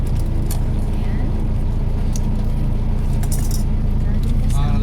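Car keys jangle inside a vehicle, giving a few bright metallic clinks and rattles over a steady low engine and road hum.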